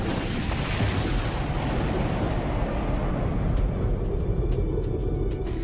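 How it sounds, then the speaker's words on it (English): Heavy, continuous rumbling roar of comet and asteroid impacts pounding the early Earth, dense low booms with scattered crackles later, loud and unbroken throughout. "comets and asteroids pounded our planet. A time known as the heavy bombardment."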